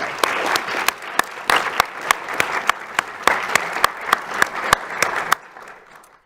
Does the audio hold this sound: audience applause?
yes